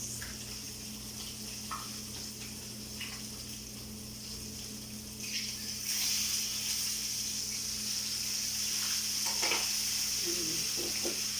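Saluyot (jute leaves) cooking in a pan, with a steady soft sizzle and occasional light stirring scrapes, faint and close, with no voices.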